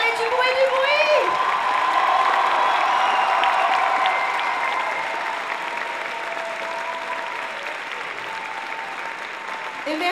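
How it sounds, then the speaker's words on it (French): A cosplay convention audience claps and cheers at Polymanga's Easter cosplay show, with dense sustained applause, a few whoops and children's shouts, and a voice over a loudspeaker; the crowd noise eases slightly midway and continues steadily. "On peut les applaudir encore, allez, du bruit!"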